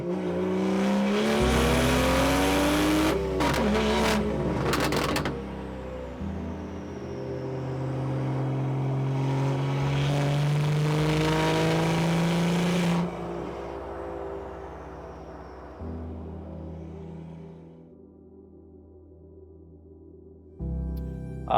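A 2018 BMW 440i with a swapped B58 engine revs and drives past, its tone climbing through long pulls and a gliding rise before settling into a lower drone that fades toward quiet.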